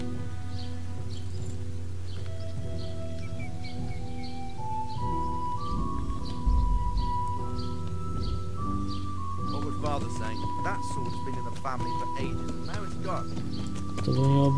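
Steady hoofbeats of a horse moving along under game music in Kingdom Come: Deliverance, with a brief whinny partway through.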